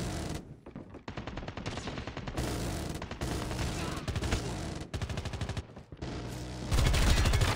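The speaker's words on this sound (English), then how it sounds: "Friendly sentry gun deployed." Sentry gun in Call of Duty Mobile firing rapid, close and loud bursts of automatic gunfire, with short breaks between volleys and a heavier blast near the end.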